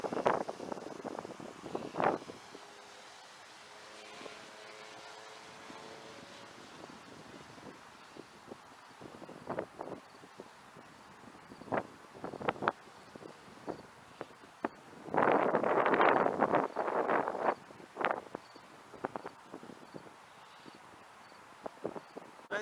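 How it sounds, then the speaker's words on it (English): Strong gusty wind buffets the microphone outdoors during a DJI Mini SE drone flight, mostly low rumbling with sharp bursts of wind noise and a louder gust near the end. "Very strong wind, but yet it still able to handle the strong wind"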